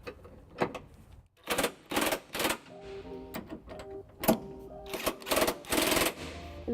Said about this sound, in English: Now with the electric impact, I'll be using a 5-inch extension and a 3/4 socket to snug up the remaining bolts.